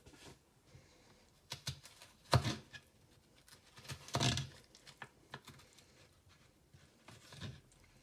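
A spoon scoops and scrapes the seeds out of a raw squash, producing a run of wet, irregular scraping and clicking sounds with a few louder scoops standing out, close by and with no talking.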